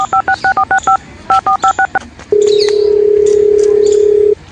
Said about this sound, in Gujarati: ફોન લગાવો દે લગાડજો